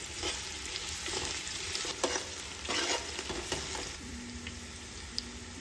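Chopped onions sizzle in hot mustard oil while being stirred, a steady close-up frying hiss broken by scraping stir strokes throughout, with no talking.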